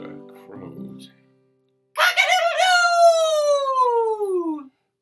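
A voice imitates a rooster crowing: one long drawn-out call that sweeps downward, loud and close, after a brief stretch of talk.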